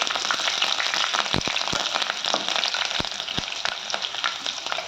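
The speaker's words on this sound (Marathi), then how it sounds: "लाल मिरच्या हे टाकून घ्यायचे थोड्याशा हिरव्या मिरच्या आणि आल्याचं तुकडे हेही परतून घ्यायचे" Red and green chillies with ginger pieces sautéing in hot oil in a pan, a steady close sizzle punctuated by a few sharp taps and scrapes, with no talking.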